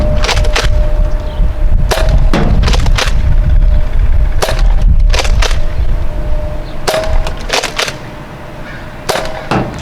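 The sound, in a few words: HIR Chronos blaster firing Rival ammo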